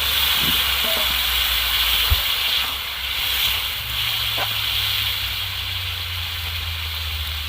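Steam hisses steadily from a hot pan of potatoes as a little water is added while cooking, a constant close airy rush with a low rumble beneath it.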